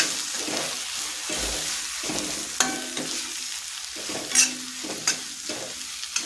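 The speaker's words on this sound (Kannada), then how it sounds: "ಈಗ ಕಾಲು ಸ್ಪೂನ್ ಅರಿಶಿನ ಒಂದೂವರೆ ಸ್ಪೂನ್ನಷ್ಟು ಕೆಂಪು ಮೆಣಸಿನ್ಕಾಯಿ ಪುಡಿ ಅರ್ಧ ಸ್ಪೂನ್ ಧನಿಯಾ ಪುಡಿ ಎಲ್ಲವನ್ನು ಹಾಕಿ ಮಿಕ್ಸ್ ಮಾಡ್ತಾಯಿದ್ದೀನಿ" Close sizzling in a pan as turmeric, red chili powder and coriander powder are stirred in for a methi garlic curry, with scraping strokes and light clinks over the steady fry.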